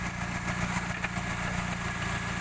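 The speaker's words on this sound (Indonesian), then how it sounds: "ini mesin dari Suzuki Baleno tahun 2000" A 2000 Suzuki Baleno DX manual sedan engine idling with a steady, even mechanical hum and faint vibration. It is heard up close with no talking.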